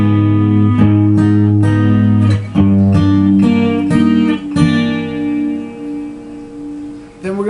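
Guitar strings plucked slowly one by one, a dozen or so ringing notes with clear attacks, close and fairly loud, trailing off into a last pluck.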